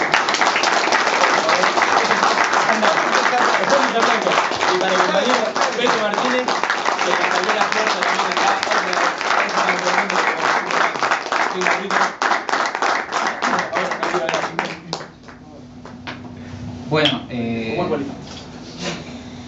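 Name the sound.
audience applause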